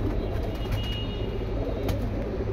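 Pigeons coo softly and repeatedly nearby, their low murmuring calls continuing under a steady background hum, with faint traffic in the distance.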